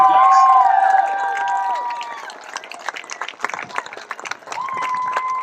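A crowd at an air show VIP reception claps and cheers, with whistles rising over the applause before it tapers off into scattered claps and voices.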